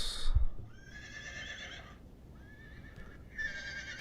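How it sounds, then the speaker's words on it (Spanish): Horses whinnying in a horror video game, several loud, close neighs with shaky high tones, one at the start, one around the middle and one near the end, plus a low thud early on and no speech. "Los caballos."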